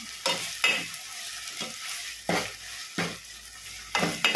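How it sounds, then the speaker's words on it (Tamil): Tomatoes cooked with salt for a prawn curry sizzle in a pan, broken by repeated close scraping strokes of a spoon stirring them, in an irregular rhythm of about six pushes. "நல்லா தக்காளி வதங்கணும்"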